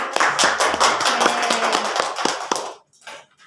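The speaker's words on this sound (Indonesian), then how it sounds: "Tepuk tangan untuk Yola ya" Classroom of fifth-grade students clapping for a classmate, a brisk cluster of overlapping hand claps with some tonal voices mixed in, stopping abruptly near the end and leaving a few faint trailing sounds.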